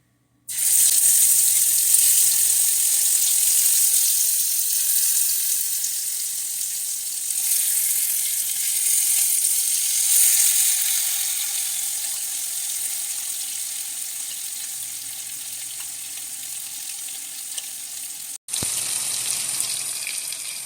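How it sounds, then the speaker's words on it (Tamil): Marinated fish frying in a pan, a loud, steady, close sizzle and crackle that runs unbroken for about twenty seconds, dropping out for an instant near the end, with no talking. "இங்கே ஒரு பக்கம் ஃபிஷ் ஃப்ரை ஆகிட்டுருக்கு"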